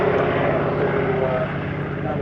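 A DHC-4 Caribou propeller aircraft flying at an airshow, a loud, steady engine and propeller drone throughout, close and continuous.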